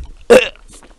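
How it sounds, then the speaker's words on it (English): A single short, loud burp after drinking a caffeinated beverage, one abrupt gulping burst followed by faint breathy trailing sounds. "I'm drinking this caffeinated beverage, so it makes you burp a lot"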